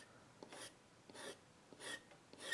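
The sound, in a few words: scratching technique on illustration board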